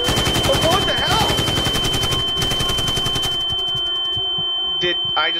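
Rapid automatic gunfire from a SWAT team in a horror video game, loud and close, then a steady electronic alarm tone rings as the firing stops.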